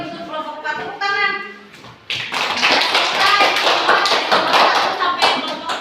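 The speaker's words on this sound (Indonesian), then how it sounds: "Tepuk tangan." Classroom group of teachers clapping together for a presenting group, a burst of rapid taps after a voice, then loud dense clapping filling the rest.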